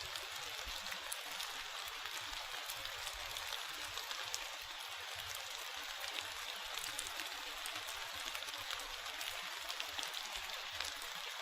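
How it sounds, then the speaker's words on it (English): Steady rain falls in the Virunga volcanoes forest of Rwanda, a dense, even hiss of drops on leaves and ground that continues unbroken, with faint sharper patters throughout. "Just listen to the sound of the rain and take in this beautiful location."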